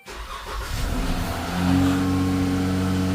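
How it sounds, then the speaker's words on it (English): A 2012-or-later Chrysler 300 push-button starts with a quick crank, then its engine catches and rises into a firm, close idle over a few seconds. "She said she wants to start the car."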